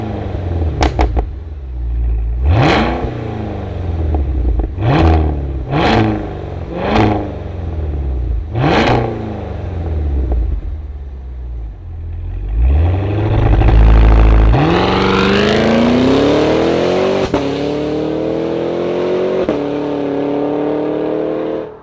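A 2023 Cadillac Escalade-V's supercharged engine starts, then gives several sharp, loud revs in a row before climbing into a sustained, roaring high-rev run, heard close up with no talking.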